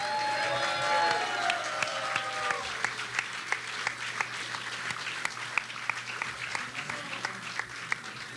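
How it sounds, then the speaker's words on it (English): Sustained audience applause at an alumni association awards ceremony, dense clapping from a sizable crowd with a few sharper nearby claps standing out, holding steady for several seconds. "Let's give this big, very crowded stage a round of applause."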